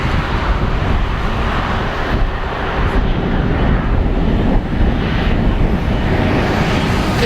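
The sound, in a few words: Fiji Airways Airbus jet taking off from Narita airport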